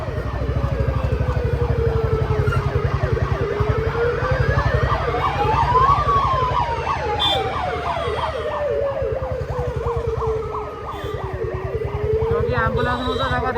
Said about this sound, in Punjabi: ਪਿੱਛੇ ਆ ਗਈ ਐਂਬੂਲੈਂਸ ਐਂਬੂਲੈਂਸ ਨੂੰ ਜਗ੍ਹਾ ਦੇ ਦਈਏ